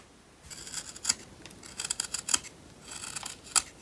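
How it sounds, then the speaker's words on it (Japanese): Freshly sharpened wood-carving chisel shaving wood in a run of crisp, scraping cuts, close and fairly loud, with bursts around one to two seconds and again near three and a half seconds. "早速ちょっと木を削ってみたいと思います"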